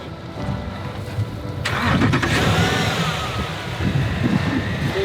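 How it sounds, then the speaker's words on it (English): An overland truck's engine cranks and catches, then settles into a rough, loud idle close by, with outdoor background noise throughout. "Start your engine, too."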